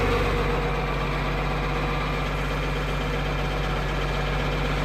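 A 1992 John Deere 4055 tractor idles steadily on a cold morning with its PTO off while the 3-point hitch slowly lowers, a continuous low diesel rumble with constant vibration and no talk.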